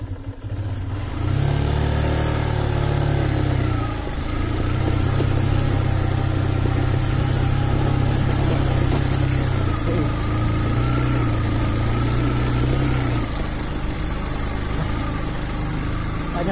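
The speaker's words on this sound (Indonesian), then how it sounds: "Jadi dengan kerusakan yang terjadi di motor, kemudian tidak mampu naik" A damaged motorcycle struggles up a steep hill on a rough rural road, its engine droning loud and close with strained rises and dips in pitch over a long stretch.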